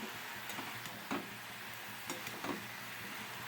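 Bottle gourd being stirred with salt in a pan: a low continuous sizzle broken by scattered light taps and scrapes of the spoon against the pan.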